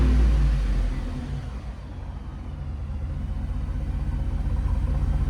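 Ford F-250 6.8L V8 truck engine with an aftermarket exhaust rumbles at idle, close and loud, with a deep steady throb after a brief louder swell at the start.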